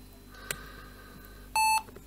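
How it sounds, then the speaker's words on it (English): A single short electronic POST beep from a 1999 IBM ThinkPad 240 laptop at startup sounds clearly over faint background hum, preceded by a tiny click. "Should get one beep."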